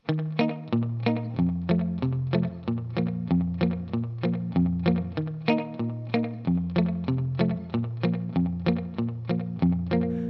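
Guitar playing the bridge of a song with a steady picked bass-note-and-strum pattern, close and clear, a bass line stepping under regular chord hits, processed with effects and alone without talk.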